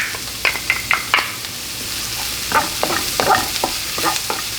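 Garlic sautéing in a pan, a steady soft sizzle broken by repeated scraping and stirring strokes of a utensil, close and moderately loud with no talking.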